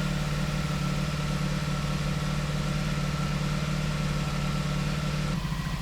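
A Honda Magna VF700 motorcycle idles steadily after a fuel system flush, its engine warming up in a continuous, even low rumble with a strong hum throughout, close and loud, with no voices.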